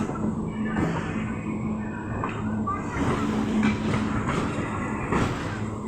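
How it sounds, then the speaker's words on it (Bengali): A train pulls away from a station with a continuous low rumble and rhythmic rattling, a few faint clanks over steady noise, while someone talks briefly. "এই বেরিয়ে গেল ট্রেন, ওই দেখো স্টেশন"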